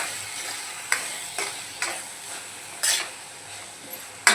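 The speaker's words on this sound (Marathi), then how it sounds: "आता आपण जे शेंगदाणे भाजून जाडसर वाटून घेतलेले ते घालून घेऊया. छान एकजीव करून घेऊया." Roasted, coarsely ground peanuts being stirred into mashed eggplant bharit, a spoon scraping and clinking against the pan in several sharp taps over a soft, steady background hiss.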